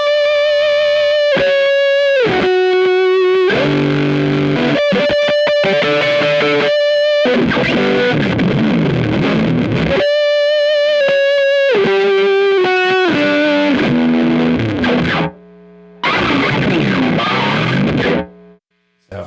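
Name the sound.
electric guitar through chaotic fuzz distortion pedal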